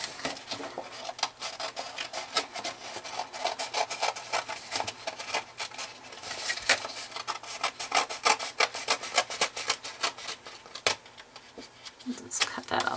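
Card stock being trimmed along its edge, a close run of quick rasping cuts and rubbing strokes with a few sharper snips, fairly faint throughout.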